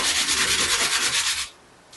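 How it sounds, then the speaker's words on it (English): Sandpaper scrapes a homemade GoPro drone stand in quick, loud back-and-forth strokes for about a second and a half, then stops. "you simply get and sand it"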